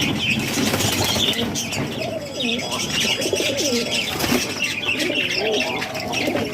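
Siraji fancy pigeons in a loft coo and chirp over a busy background, with wing flaps and scattered rustling throughout.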